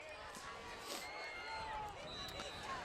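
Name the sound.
Somerset football crowd getting loud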